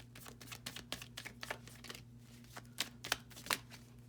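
Tarot cards being shuffled by hand, a quick series of soft papery riffles and slaps in close, irregular bursts over a faint steady hum.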